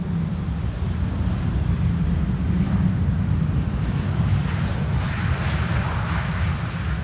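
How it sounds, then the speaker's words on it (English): KLM airliner touching down at Amsterdam Schiphol on a windy day, a continuous broad engine rumble mixed with gusty wind noise, loud and unbroken throughout. "KLM is touching down"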